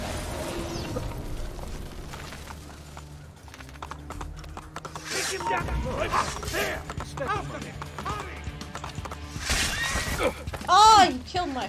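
A horse in the video game Assassin's Creed 2 whinnies briefly near the end, a short loud neigh, after clattering hooves, creaks and game noise, with talking over much of it.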